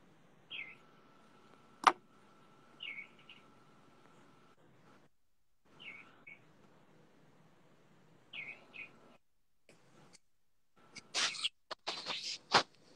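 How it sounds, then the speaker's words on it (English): Birds sing in an outdoor scene from the TV series Roswell, giving short, faint chirps repeated every few seconds over a quiet background. A few louder rustles and clicks come near the end. "I love that I just hear birds."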